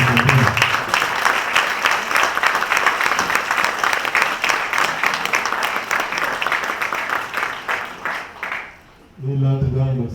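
Loud, sustained audience applause for a director general at a medal ceremony, dense clapping for about nine seconds that drops away before a voice starts speaking.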